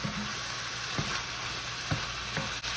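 Garlic and a bay leaf sizzle in a pan of ground beef with a steady, loud frying hiss, and a few soft stirring scrapes come through alone without voices.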